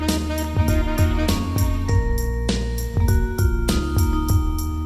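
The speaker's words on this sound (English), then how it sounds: "is a musical sequence played and recorded directly from a Korg O1w." A sequence played on a Korg 01/W workstation synthesizer with layered tones, bass notes and bright chime-like accents playing steadily in a rhythmic pattern, loud and continuous with no voices.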